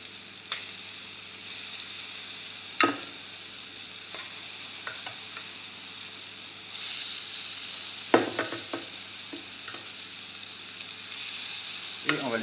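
Mango quarters sizzle steadily in nutty caramel in a small pan for flambéed mangoes, a constant close frying hiss broken by a few sharp scrapes and clinks of a utensil, with no talking.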